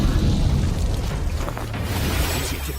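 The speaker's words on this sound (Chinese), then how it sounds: "他们无视弹药的爆炸。" Ammunition exploding in an animated fantasy series, a loud, continuous, rumbling blast that fills the clip with dense low roar and no break.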